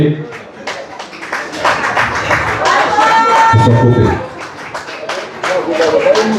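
Audience applause at a tribute evening honouring a veteran musician, a crowd clapping under someone speaking French over a microphone, with a louder swell of hands in the middle before the talk resumes.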